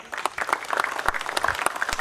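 An audience at the Mindscape 2015 event claps enthusiastically, a dense run of overlapping handclaps throughout, loud and close, with no speech over it.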